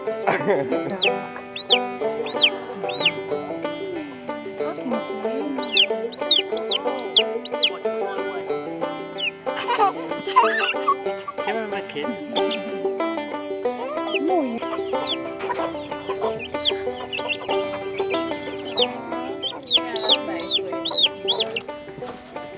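Chickens cluck and call on a permaculture farm, with a rooster among them, busy and close throughout, while a person talks over the birds.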